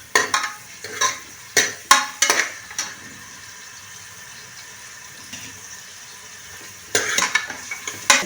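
Onion and coriander leaves tossed into hot oil in a pan for vegetable chicken sambar, giving sharp bursts of sizzling and stirring clatter at the start, a quieter simmering lull, then renewed sizzle and utensil scrapes near the end.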